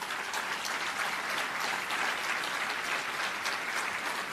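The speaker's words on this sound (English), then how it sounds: "Give him an applause." An audience at a State of the City speech applauds steadily, a dense, even wash of clapping that holds at a moderate level for the whole stretch with no voices over it.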